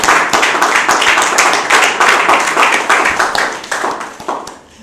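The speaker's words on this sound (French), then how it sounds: "Applaudissez-vous." A church congregation at a Wednesday service in Treichville claps and applauds together, loud and dense at first, then thinning and fading out over about five seconds.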